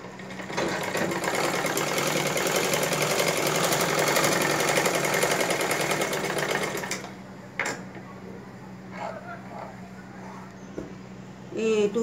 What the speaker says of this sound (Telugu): ఇట్లా స్టిచింగ్ చేస్తున్నాం